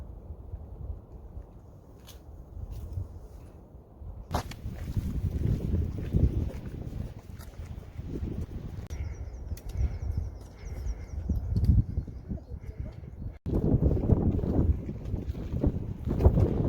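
Strong, gusty wind roars and buffets the microphone in the open air on a mountain pass, the Col de la Ferret on the Tour du Mont Blanc, with a sharp gust hitting near the end.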